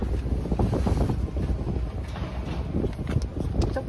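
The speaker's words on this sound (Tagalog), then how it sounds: "Napakalakas ng hangin." Strong wind buffets the microphone outdoors with a steady, loud rumbling roar that gusts and surges throughout, with no talking.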